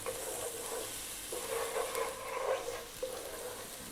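Chicken fat sizzles in a pan over medium heat while being stirred, a steady fry hiss broken by repeated scraping strokes of a utensil against the pan.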